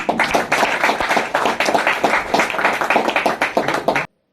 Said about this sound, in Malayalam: നല്ലൊരു കൈയടി ആ ഫാമിലി